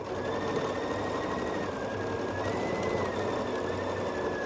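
Sewing machine stitching quilt block pieces, a steady quiet mechanical whir with a faint rhythmic pulse running throughout, no talking.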